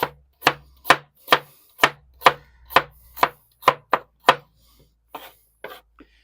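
Knife chops carrots into half-rings on a cutting board in about a dozen sharp, evenly spaced thwacks, close and clear, slowing and softening near the end.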